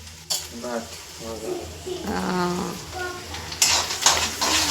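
Leftover khichdi tempered in a hot pan, a loud steady sizzle and frying hiss with a spoon stirring and scraping, and a sharper burst of sizzling near the end.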